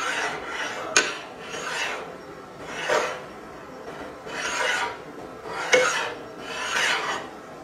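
An aluminum plate with a handle is pushed back and forth through a magnetic field, giving six rhythmic rasping, rubbing strokes, evenly spaced and fairly close, with two sharper clicks among them.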